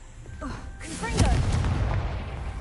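A Confringo blast spell in Hogwarts Legacy bursts into a loud, rumbling explosion that swells and lingers, with a voice heard just before and over the blast.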